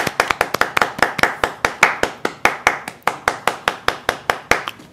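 Sharp, evenly spaced hand claps ring out one after another, a small group clapping in a quick steady rhythm with no talk.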